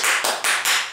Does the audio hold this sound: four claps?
yes